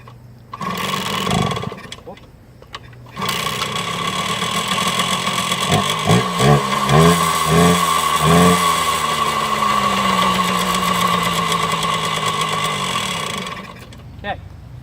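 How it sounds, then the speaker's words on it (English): A Kawasaki KD80 two-stroke motorcycle is kicked over and fires up, then runs with a buzzing, revving engine note that settles into a steady idle before cutting off, loud and close. "Now I'm going to start the bike up so you guys can see that the bike runs perfectly fine first."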